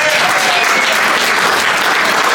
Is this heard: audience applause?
yes